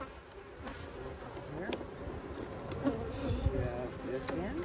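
Honeybees buzzing steadily close by, a continuous droning hum with a few louder passes near the end.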